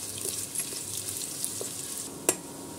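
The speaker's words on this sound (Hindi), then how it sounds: "इसको डाल देना है, डाल के इसको गोल्डन फ्राई होने तक के हम इसको फ्राई कर लेंगे।" Sliced onions fry in hot oil over a high flame. The sizzle is soft and steady, with a couple of small sharp pops and one louder clink near the end.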